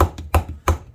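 A Ka-Bar FIN D2 tactical knife with a dull edge chopping into wood, giving three sharp, close thunks in steady rhythm, each with a short woody ring.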